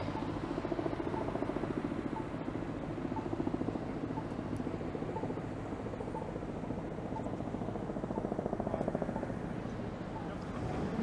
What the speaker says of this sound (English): And I can hear a police chopper.